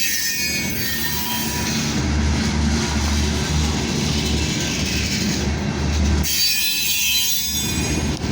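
A freight train hauled by three locomotives with three distributed power units rolls past close and loud, a continuous heavy rumble of wheels and wagons with squealing and clacking, the sound shifting sharply near the end as cars go by.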